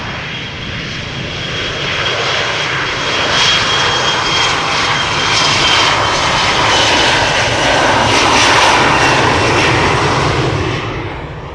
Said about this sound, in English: TUI 767 to Antalya is coming this way. You can already hear it.